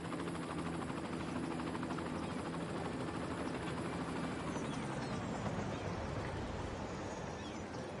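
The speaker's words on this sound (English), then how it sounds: "You have to be really rich to afford to fly around in a private" A private helicopter in the city-building game Cities: Skylines flies past with a loud, continuous rotor chop and engine whine that holds steady and then eases slightly.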